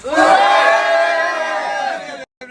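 A large crowd roars, cheering and shouting loudly and steadily for about two seconds before cutting off abruptly.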